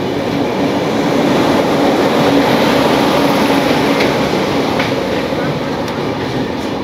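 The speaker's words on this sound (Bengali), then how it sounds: "দেখুন বর্ধমান স্টেশনে দেখা হয়ে গেল হাওড়া রামপুরহাট ইন্টারসিটি এক্সপ্রেস যেটা আছে।" At Bardhaman station, the Howrah–Rampurhat Intercity Express rolls past in a loud, steady rumbling roar with faint clicking from the rails, heard close and continuous.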